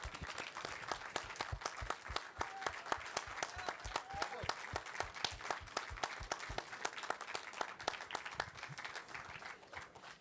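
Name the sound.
audience applause for festival volunteers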